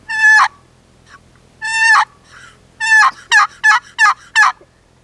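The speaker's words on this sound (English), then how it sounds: "this is probably the easiest call in the whole turkey world to get a good yelp" A mini box call, a wooden friction turkey call, plays a series of raspy turkey yelps, starting as slow single calls then quickening into a rapid run of five, loud and close.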